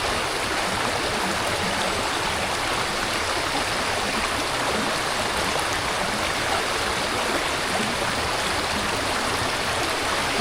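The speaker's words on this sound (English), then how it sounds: "I'm just a sucker for running water." Running water of a stream on a multi-purpose trail, a steady broadband rush and babble that stays constant and fairly loud throughout, close by, with no voices.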